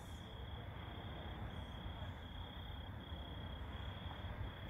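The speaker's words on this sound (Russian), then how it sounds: "пение сверчков" Steady, continuous chirping of crickets fills the air on a cool evening by the Sea of Azov, a dense insect chorus with a constant high trill and low background rumble, no voices.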